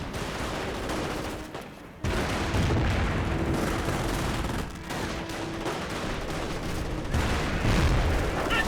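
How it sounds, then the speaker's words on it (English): An M180 gun fires in a Company of Heroes battle, with repeated booming shots and crackling gunfire that come in bursts over a constant loud battlefield din, with no talking. "M180 gun hitting, firing away, rolling some misses there"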